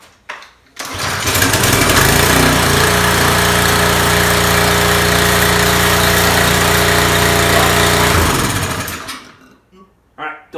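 A small engine-driven pressure washer pump built into a garbage-can rig roars at high revs for several seconds, loud and close, then winds down and stops.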